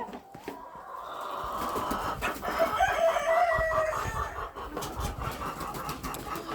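Cochin hens cluck softly, with a rooster-like call rising in the middle, amid faint rustling and background noise; no speech.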